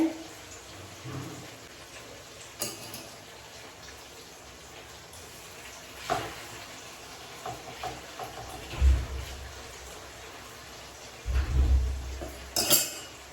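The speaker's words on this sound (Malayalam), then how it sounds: "എനിക്ക് പറ്റുന്നൊക്കെ കഴുകി വയ്ക്കാമെന്ന് വിചാരിച്ചു നിറയെ പാത്രങ്ങളുണ്ട്" Dishes and pots being washed at a kitchen sink give off scattered clinks and clatters of metal cutlery and pans, with a few louder knocks and scrapes near the end and some faint talk in the background.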